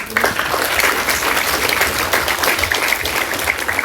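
Steady applause from an audience at a university Dean's List award session fills the whole stretch, dense and continuous clapping at an even level.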